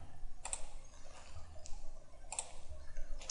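Computer mouse clicks sound in an Autodesk Inventor 2015 session: a few sharp, light, close clicks spaced about two seconds apart over a low, quiet background hum.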